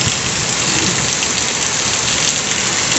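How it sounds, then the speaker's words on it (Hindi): Heavy stormy rain pours down in strong wind, a loud, dense, unbroken roar of water with no voices. "बट बहुत ही ज़्यादा तूफानी बारिश है ये"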